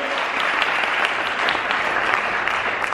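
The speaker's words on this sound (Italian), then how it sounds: "Questo è il tuo applauso, Silvia." Dense, loud audience applause at an awards event in Milan, a continuous wash of many hands clapping close by with no pauses.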